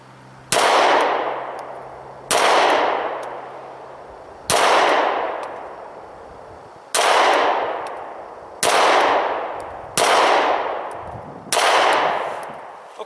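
Seven loud, sharp gunshots from a Smith & Wesson M&P 9 Shield 9mm pistol fired at a target about 5 yards away, spaced one to two seconds apart, each followed by a short ringing decay.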